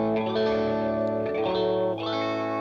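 An electric guitar runs through a real treble booster into a ToneX modeled amp. It produces a sustained, saturated lead with bright overtones and a chorus-like shimmer, played alone at steady volume.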